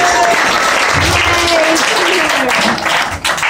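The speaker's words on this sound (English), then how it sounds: "definitely need a round of applause for them" At a wedding reception, an audience applauds steadily and loudly, a dense wash of clapping that holds for several seconds before thinning at the end, with some voices mixed in.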